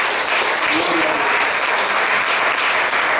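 A church congregation claps loudly and steadily for a few seconds, a dense, continuous wash of applause with no voices rising above it.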